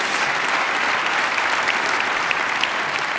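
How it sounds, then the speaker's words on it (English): At a downtown civic gathering the audience gives another round of applause, a thick, continuous wash of many hands clapping at a strong, even volume throughout. "Can we get one more round of applause"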